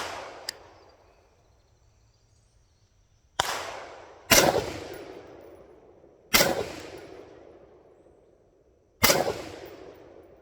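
Rifle shots fired while zeroing a scope: one faint pop, then four loud, sharp cracks spaced a second or more apart, each followed by a long echoing decay outdoors.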